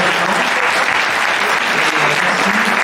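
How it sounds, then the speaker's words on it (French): A room full of people applauds the speakers at the close of a screening and debate of the cycling film "Why we cycle" in Paris, a loud, dense, steady burst of clapping lasting about three seconds. "Je propose d'applaudir nos intervenants."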